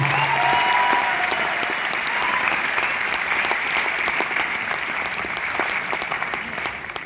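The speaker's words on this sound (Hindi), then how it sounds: "बार जोरदार तालियां जनार्दन के लिए और सारे ग्लोबल डायमंड्स के लिए दोस्तों।" An audience at a 19th anniversary event applauds loudly, dense sustained clapping from a crowd that carries on throughout and gradually thins toward the end.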